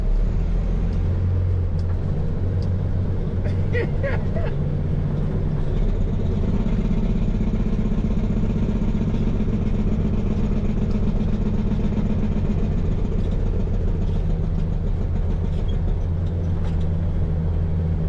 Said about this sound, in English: I'll go get my mini, that old dump truck,